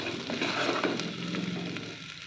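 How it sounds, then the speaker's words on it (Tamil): Drumstick stir-fry sautéing in a pan over a low flame, a soft continuous sizzle with faint scattered pops, quiet and steady with no talking. "அடுப்பை சிம்மில் வச்சிடலாம் கொஞ்ச நேரம் வதங்கட்டும்"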